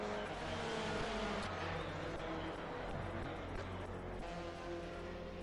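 Historic touring cars, BMWs among them, racing on a circuit: a steady, fairly quiet engine drone with cars passing at a distance, continuous throughout.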